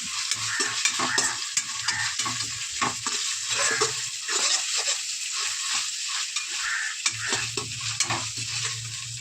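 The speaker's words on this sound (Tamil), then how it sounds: "இஞ்சி பூண்டு பேஸ்ட்டு போட்டாச்சு. அடுத்து நல்லா வதக்கி விட்டுக்கலாம்." Ginger garlic paste sautés in a pan with onions for a chicken gravy, a loud steady sizzle broken by repeated stirring scrapes, close and continuous with no talking.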